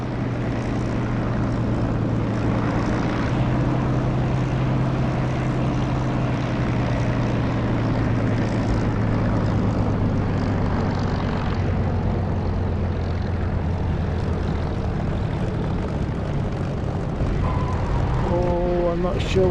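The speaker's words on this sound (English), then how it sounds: "gear down. And flaps. Listen for the increased sound." Propeller aircraft engine drone in a flight sim with landing gear and flaps lowered, a steady loud low hum running throughout with rising harmonic whine near the end.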